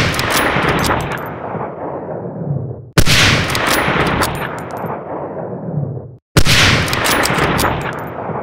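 Three loud, close Springfield '03 sniper rifle shots in Medal of Honor: Allied Assault, roughly three seconds apart, each a sharp crack with a long rolling echo that fades before the next shot.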